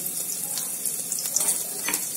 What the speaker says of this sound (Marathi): यात आता आपण कापलेल्या मिरच्या टाकूया